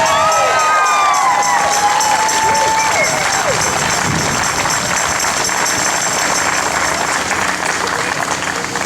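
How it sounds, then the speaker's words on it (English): A crowd at an outdoor rally against gun violence claps and cheers loudly and continuously. Whistles and shouts come through near the start, and the dense applause holds steady to the end. "Can I get a clap for that?"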